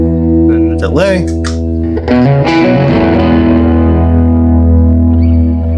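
Electric guitar played through a Levitate reverb and delay pedal on its delay setting, a bent note then strummed chords whose repeats smear into a long, steady sustained tail, loud and close.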